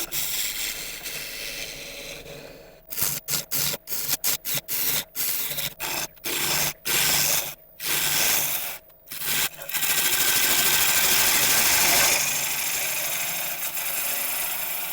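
Wood lathe spinning a large London plane blank at about 850 RPM while a tool cuts intermittently, producing rhythmic rasping scrapes in choppy bursts that merge into a steady loud grinding rush near the end, close and without voices.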